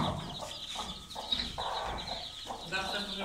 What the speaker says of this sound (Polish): O, tu są te kurczaki, co wcześniej ich nie widzieliście.